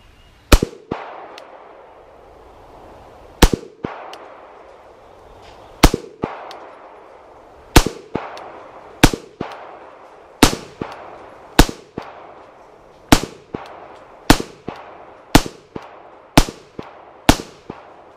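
A Beretta 92FS pistol fires at a target, about fourteen loud sharp gunshots, widely spaced at first and then coming faster, each with a short echoing tail and no talk.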